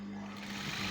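Sewing machine stitching down a garment pocket, running as a steady close hum with a strong low whir throughout, getting slightly louder toward the end, with no talking.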